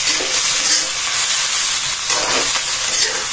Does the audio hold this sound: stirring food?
yes